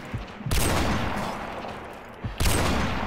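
Gunfire in a video game 1v1 match, two loud bursts of rapid shots, one short and one sustained, close and harsh with no talk over them.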